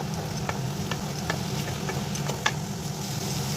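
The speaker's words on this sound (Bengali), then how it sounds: "1 চামচ জিরে গুঁড়ো দিয়ে দিলাম। এবার এটাকে আমি নাড়তে থাকবো।" Chicken with red chilli and cumin powder frying in a pan while being stirred, a steady close sizzle with a few light spoon clicks and scrapes.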